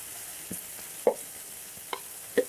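Chopped onions frying in hot oil with cumin and green chillies for bread bonda stuffing: a steady soft sizzle with a few sharp clinks of a spoon against the pan, no voices.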